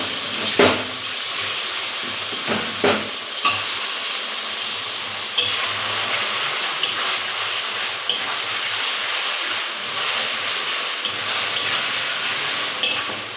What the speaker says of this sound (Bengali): এখন দেখবো একটু পেঁয়াজ মজে এসছে, এর মধ্যে এবার টমেটোগুলো দিয়ে দেবো।